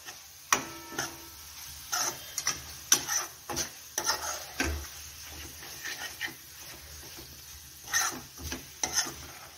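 Spice mix with red chilli powder being stirred in a pan for an aloo matar vegetable dish, heard as intermittent close scraping and tapping strokes in an uneven rhythm over a quiet background.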